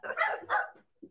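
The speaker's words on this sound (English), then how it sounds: "I was just going to let the dog in." A dog barks at the door, a quick pair of close, sharp barks followed by a short yip, loud against a silent background.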